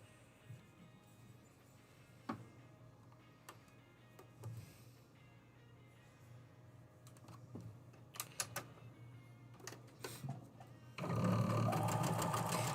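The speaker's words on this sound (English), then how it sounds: "we're going to sew an A and a D onto them" A sewing machine stitches letter pieces in short, light, rapid runs of needle clatter, quiet and intermittent, ending in a louder sustained burst of sewing.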